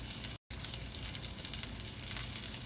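A smash burger patty sizzles and fries in a cast iron pan on a stovetop, a steady close crackling hiss broken by a brief silent gap near the start.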